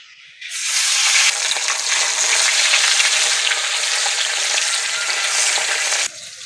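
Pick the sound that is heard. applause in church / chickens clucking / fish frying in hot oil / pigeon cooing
fish frying in hot oil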